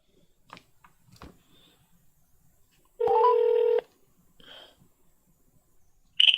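Cell phone keypad beeps while a number is dialed, with one steady tone and a second brief tone near the end, around soft breathing and small handling noises.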